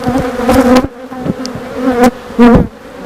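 Honeybees drone around an aggressive backyard hive during a frame inspection, a close, steady buzz with a few sharper bursts as bees fly past.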